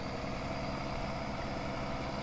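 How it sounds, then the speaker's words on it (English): Truck engine idling steadily in Farming Simulator 2019, a continuous low rumble that stays even and close throughout with no talking. "You guys can hear the engine kick on there, a beautiful sounding engine."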